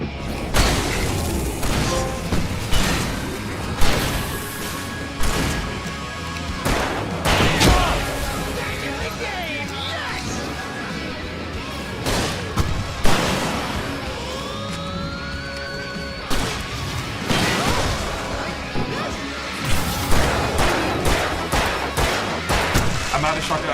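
Shotgun blasts and flare gun shots in the Alan Wake video game boom out in loud, irregular bursts across a tense, noisy fight, with frequent sharp reports and rushing whooshes.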